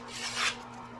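A knife drawn once through the first stage of a knife sharpener gives a brief, close, gritty rasp lasting about a second.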